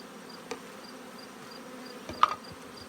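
Constant honeybee buzzing drones throughout from an open hive, with a couple of brief knocks and taps close by.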